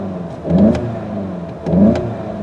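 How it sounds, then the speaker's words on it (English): A 2015 Volkswagen Golf GTI engine, standing in park, is revved twice, each a short rising vroom that swells and falls back to a steady idle, close and fairly loud, with no talking. "And let's turn on this car with the start-stop engine button right there."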